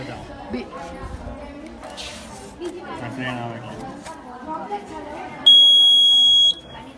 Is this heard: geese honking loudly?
no